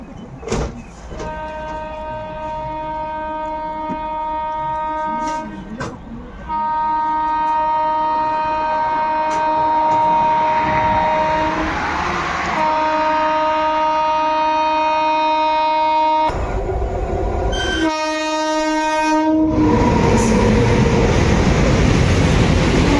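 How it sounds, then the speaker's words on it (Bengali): Ranikhet Express passenger train rolling through a wide curve near Jodhpur, a steady close rumble with sustained metallic wheel squeal tones, a brief drop in the middle, then louder rushing noise at the end. "দেখতে পাচ্ছেন আমাদের ট্রেনটা একটা বিশাল বড় কার্ভ নিচ্ছে"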